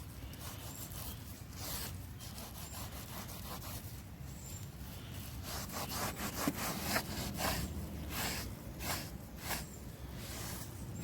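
Terry cloth rubbed back and forth on a wood surface while applying a finish, a soft steady scrubbing hiss with rhythmic strokes, fairly faint and close, no voices.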